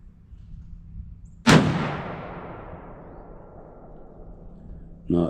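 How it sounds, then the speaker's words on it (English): A .308 rifle fires at a 50-yard target: one loud, sharp report with a long echoing decay, then the start of a second shot at the end. "I'm going to take a couple shots at 50 yards and see where we go from there."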